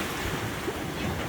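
Ocean waves rush past a sailboat running downwind at several knots between Barbados and Union Island, a continuous close wash of water mixed with wind noise buffeting the microphone.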